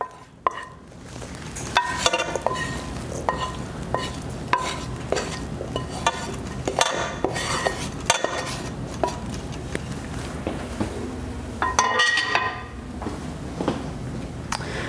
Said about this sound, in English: Now that our onion, pepper, and garlic have cooled a little bit, we're gonna throw that in the pan.